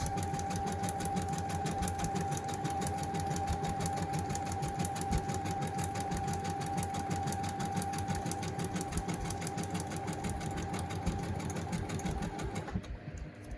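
A sewing machine stitches through acetate for a traveler's notebook, a loud, fast, steady mechanical whir and needle clatter running continuously before stopping abruptly at the end.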